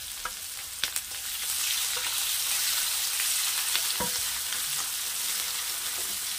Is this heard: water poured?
no